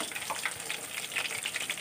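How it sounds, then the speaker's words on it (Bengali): Chicken kathi kebab pieces deep fry in oil over medium heat, a faint, steady sizzle with soft crackling pops scattered throughout and no voices. "তো পুরো একদম ডিপ ফ্রাই করা হচ্ছে"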